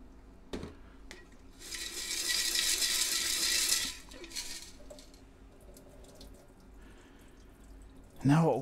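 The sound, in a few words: rinsing silver shot in a beaker with water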